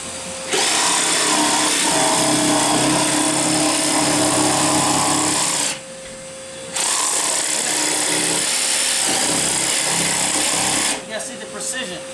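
Power tool running in long loud bursts during a youth mission trip, a harsh high-pitched whine held for about five seconds, a short pause, then another burst, close by with voices underneath.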